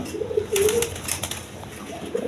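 A breeding pair of pigeons, one male and one female, coo in soft low rolling calls at a market stall, with several short bursts close by and some rustling between them.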